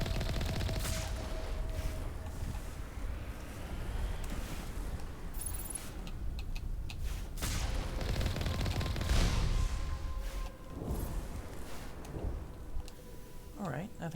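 Rapid turret gunfire in the video game Mass Effect, a dense, sustained barrage of shots with explosive thuds and bursts that runs continuously through the whole stretch.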